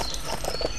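Rapid, close horse clip-clop hoofbeats from the video game Lego City Undercover patter in a quick uneven rhythm over a busy game background.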